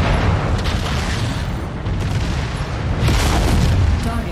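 A destroyed target mech explodes in MechWarrior 5, a loud, dense, continuous booming rumble with heavy low-end that swells and surges over several seconds.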